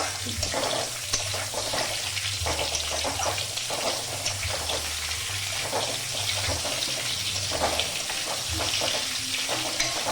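Vegetables for shukto frying one after another over medium heat in a kadai, a steady dense sizzle with occasional stirring clatter and a low hum underneath, continuous throughout.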